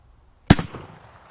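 A single rifle shot firing a rimmed cartridge, one sharp loud blast after brief quiet, followed by a short fading echo.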